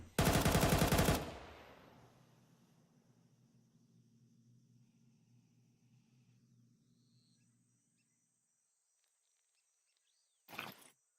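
A short, loud burst of rapid P250 pistol shots in Counter-Strike, followed by a fading tail and near silence, then one brief sharp sound near the end.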